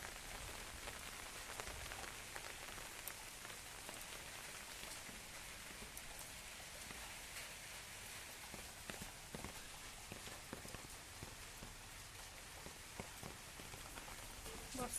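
Heavy monsoon rain pounds down in Bhubaneswar, Odisha, a dense, steady hiss of drops spattering surfaces nearby, continuous and even throughout.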